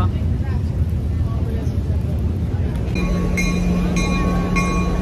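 A tourist train at Jim Thorpe, Pennsylvania rumbles steadily nearby with a low continuous drone, joined partway through by a sustained tonal hum; people waiting to board talk faintly in the background.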